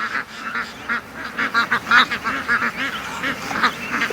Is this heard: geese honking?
yes